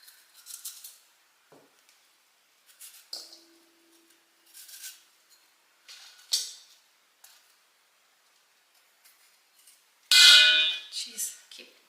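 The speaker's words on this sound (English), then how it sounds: "Jeez, keep hitting my bowl." A knife repeatedly strikes a metal mixing bowl while thinly sliced apples for pie are cut, giving sharp clangs and ringing dings spread across the clip, with one louder, brighter gong-like hit near the end.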